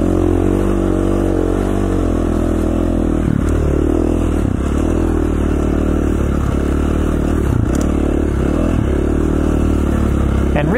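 A dirt bike rides across snowy Idaho terrain, its engine loud and close throughout, rising and falling as the throttle is worked, with clattering and scraping from the ride.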